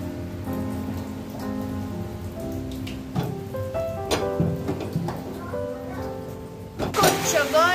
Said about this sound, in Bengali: আবার এই যে মাছু জোর বৃষ্টি হচ্ছে